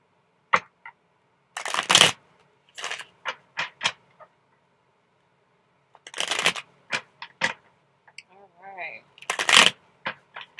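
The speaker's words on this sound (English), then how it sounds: "I'm just going to shuffle these cards up really, really good." Tarot cards being shuffled in quick riffling bursts and taps, close up, with pauses between rounds.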